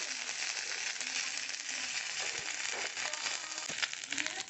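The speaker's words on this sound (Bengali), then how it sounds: "এর মধ্যে একটু আদা আর রসুন কুচোনা দিয়ে দিলাম, দিয়ে একটুখানি ভেজে নিচ্ছি।" Chopped ginger and garlic frying in hot oil, giving a steady, even sizzling hiss with small crackles throughout, heard alone and fairly close.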